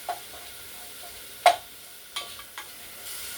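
Chopped sausage sizzling in a frying pan while a utensil stirs and scrapes it around, with a few distinct clacks against the pan over a steady soft frying hiss.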